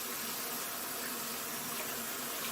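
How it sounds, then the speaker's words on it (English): Tap water runs steadily from a kitchen faucet over rice being rinsed to wash out starch, a continuous broad hiss of flowing water close by with no one talking. "Turn my tap water on."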